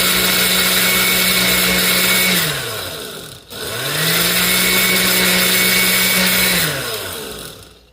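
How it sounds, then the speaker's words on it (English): A blender on its smoothie setting whips up a banana smoothie, its loud motor whirring steadily, then winding down. It spins up again for another long run before slowing toward the end. "Blend it until you get to your consistency that you like"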